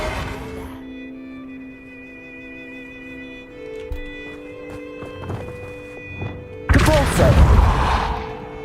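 The Defindo spell is cast in Hogwarts Legacy. Soft sustained tones and a few dull thuds lead up to a loud, crackling magical burst near the end, which then fades out.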